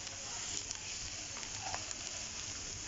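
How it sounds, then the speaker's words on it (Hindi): Vegetables lightly frying in oil in a pan, a soft, even sizzle with faint crackles and a small clatter near the end, quiet and close with no talk. "ये अब मैंने हल्का सा वेजिटेबल्स को ऑयल में फ्राई कर लिया है, लाइट सा।"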